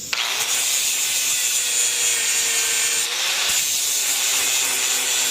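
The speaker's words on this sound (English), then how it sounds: "But for this, I'm just going to use a flappy wheel." A flap wheel grinds metal on a Corvette radiator relocation job, giving a continuous loud abrasive whir with a slight dip in pitch partway through. It is close, with no talking.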